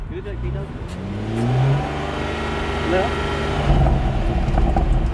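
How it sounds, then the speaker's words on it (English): A car engine revs up toward about 5000 rpm and settles back with some exhaust burble, loud and close, with people talking over it. "I'm hearing more engine noise than exhaust. Do like a 5K."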